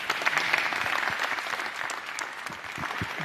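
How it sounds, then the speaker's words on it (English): An audience at a public lecture breaks into applause after an introduction, a dense, even patter of many hands clapping for several seconds without speech. "And you may applause."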